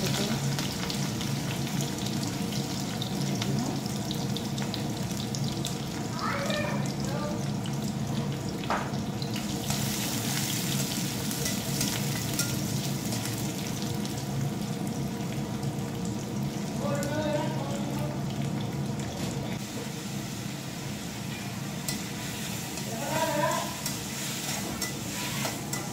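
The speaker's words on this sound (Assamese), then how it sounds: "আলুখিনি তেল দিছোঁ" Potato pieces frying in hot oil give a steady sizzle and crackle that runs the whole time, with a few brief clatters of stirring or a utensil near the start and the end, recorded close in a home kitchen.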